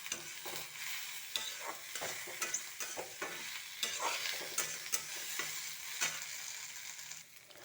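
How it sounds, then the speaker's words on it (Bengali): Dal frying in a pan with spices and chopped tomato, a close, steady sizzle broken by frequent scraping stirs of a spoon against the pan, with no talking. "তো এখানে আমার ডাল ভাজা হচ্ছে, মশলার সাথে দিয়ে দেবো একটা টমেটো কুচি"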